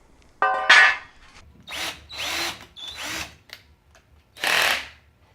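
A power drill with a keyless chuck bites into the metal of a storage rack in several short, loud whirring bursts separated by pauses, close up and with no talking.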